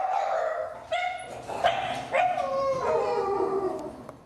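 A dog barks, yips and breaks into drawn-out howls in a short film, several loud close calls rising and falling over about four seconds with no other sound.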